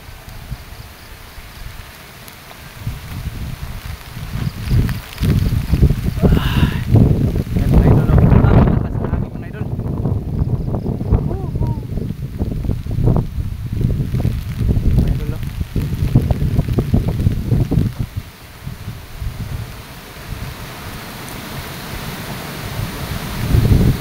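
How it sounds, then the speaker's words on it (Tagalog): Strong wind on a mountain buffets the microphone in loud, roaring gusts for most of the stretch, easing near the end; a voice talks faintly at times. "Lakas ng hangin dito"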